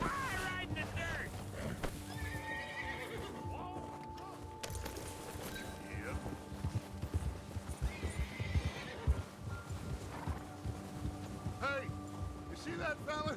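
In Red Dead Redemption 2, horses clop along with steady hoofbeats while several neighs and whinnies rise above them, wind and ambience underneath, and voices talk intermittently over the riding.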